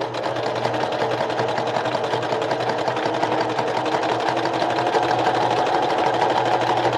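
A sewing machine with a 60 millimeter needle runs continuously, sewing a colored ribbon for a boho bag, its loud, steady motor hum and rapid needle chatter filling the clip close up.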